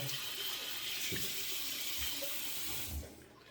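Tap water runs steadily into a sink as a face is rinsed after a shave, a continuous close hiss with faint splashes, cutting off near the end.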